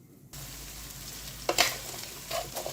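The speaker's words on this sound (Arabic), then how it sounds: "البطاطس بتاعتنا المكعبات كده، هتاخد تقليبه كده بسيطه في الزيت" Cubed potatoes fry in oil, a sizzle that bursts in suddenly and stays steady, with a few sharp stirring clatters midway and near the end, close up.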